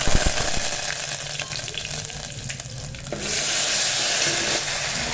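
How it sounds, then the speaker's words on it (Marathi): Mustard seeds, cumin and curry leaves sizzling in hot oil for dal tadka, a loud, dense hiss that sharpens and grows brighter partway through as more is added, close and steady with no talk. "मोहरी पण तडतडली आता याच्यामध्ये जिरं टाकून घ्यायचं अर्धा चमचा आणि कढीपत्ता पण टाकून घेऊ"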